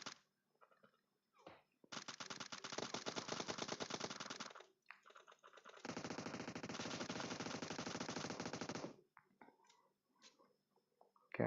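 Two long bursts of rapid automatic gunfire from the battle royale game PUBG, each lasting a few seconds, loud and sharp with short scattered shots between them and no talking.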